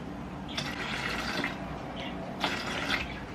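Cranberry juice poured into a drink mix, giving a faint, close liquid gurgle in two short bursts over quiet room tone, with no talking.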